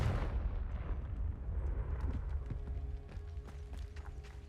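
A Confringo blasting spell explodes in Hogwarts Legacy, a loud rumbling burst with low-end boom and debris that slowly decays into scattered crackles.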